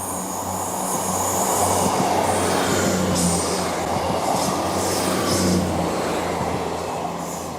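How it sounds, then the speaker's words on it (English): A train passes on a Calderdale line near Todmorden, a steady loud rumble of wheels on rails with faint squeal and clatter throughout, no voices. "Quick break to film a passing train there."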